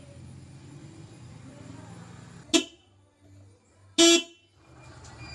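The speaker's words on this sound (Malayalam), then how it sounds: "ഇതാണ് കേട്ടോ നമ്മൾ നിലവിൽ വണ്ടിയിൽ ഇപ്പോൾ യൂസ് ചെയ്യുന്ന ഹോൺ" A Maruti 800 car's existing factory horn sounds twice, two short, loud, close beeps about a second and a half apart over a quiet background hum.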